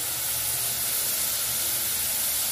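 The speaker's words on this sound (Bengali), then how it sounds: "1টি টমেটো স্লাইস করা এবং 4টি কাঁচামরিচ দিয়ে এর সাথে ভেজে নেব" Sliced tomato and four green chilies frying with chopped carrots in a pan, a steady close sizzling hiss that stays loud and unbroken throughout with no talking.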